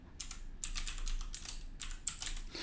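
A password is typed on a computer keyboard as quick clusters of crisp, close key clicks in short bursts with brief pauses between them, heard alone in a quiet room.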